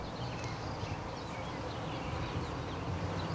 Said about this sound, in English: So as you see, we're starting to get into some bees here.